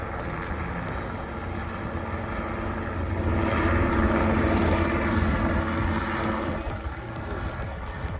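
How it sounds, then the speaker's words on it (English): A heavy helicopter engine drones steadily at a distance, swelling a little louder midway, with a rumbling, whirring tone and no talking. "helicopter's gonna be landing here soon"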